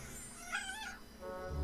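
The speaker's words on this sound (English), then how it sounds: "That's my cat." A pet cat meows once near the mic, a short rising-and-falling cry, heard over steady background video-game music.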